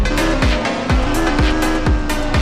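A supercar drifts in Car Simulator 2, its engine droning loudly with repeated sharp tire squeals and skids recurring in a steady rhythm, close and continuous.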